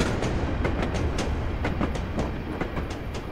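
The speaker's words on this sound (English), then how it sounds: "Off he goes with his coal train." A Black 5 steam locomotive hauls a coal train past at close range, its wagons producing a loud, steady clickety-clack of wheels over rail joints with repeated rhythmic clanks, and no one speaks.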